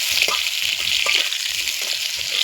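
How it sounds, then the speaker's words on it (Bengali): Potato pieces fry in hot oil seasoned with cumin seeds and bay leaf, a loud continuous sizzle broken by repeated scraping stirs of a spatula. "জিরে তেজপাতা দিয়ে আলুগুলোকে ভেজে নিতে হবে"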